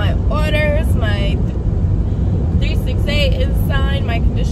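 Steady low road rumble of a packed car heading home on a moving day, continuous and fairly loud throughout, with a person's voice talking over it at intervals.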